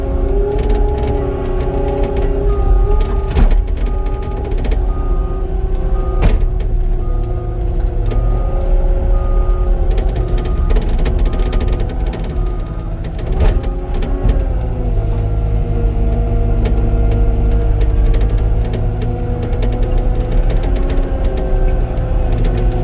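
A D5K2 bulldozer working a road construction site, its diesel engine running in a steady, loud rumble throughout, with occasional metallic clanks and shifts in engine tone.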